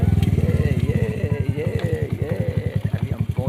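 A motorcycle rides along a village road, its engine thumping in a steady rapid pulse up close, with a voice briefly heard over it.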